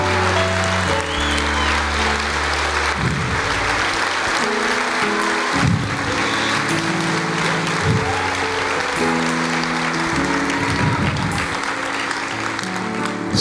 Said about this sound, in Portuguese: Aplauda o Senhor agora em adoração.